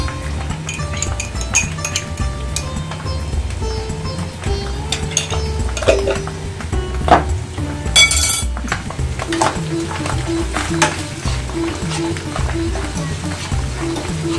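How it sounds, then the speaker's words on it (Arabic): Sliced button mushrooms frying in oil with onion in a pan for a potato and kofta tortilla, a steady sizzle beneath frequent clinks and scrapes of a utensil stirring against the pan, close and continuous. "غادي نحمر فيها شويه لي شامبينيون"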